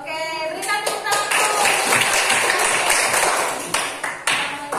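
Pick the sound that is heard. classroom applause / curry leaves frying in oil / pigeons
classroom applause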